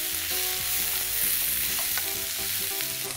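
Already-cooked beans sizzle steadily as they brown in a pan for tacos, a continuous close frying crackle with soft music underneath and no talking.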